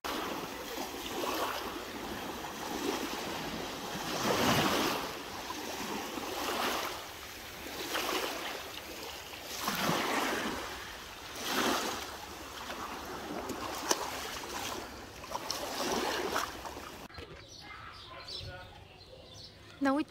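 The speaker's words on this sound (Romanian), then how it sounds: "Să vă mai arăt puțin marea" Sea waves wash onto the shore of Lefkada island in surging swells that rise and fall every couple of seconds, close and fairly loud, then the sound fades near the end.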